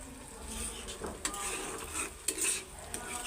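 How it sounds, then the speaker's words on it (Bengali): Spice paste fries in oil for a stinging catfish bhuna while a utensil stirs it. A soft, steady sizzle sits under several sharp metallic scrapes and clinks against the pan, close by, with no speech. "তো আর একটু ভালো করে কষায় তেলের উপর উঠায় মাছগুলি দিয়ে দিব"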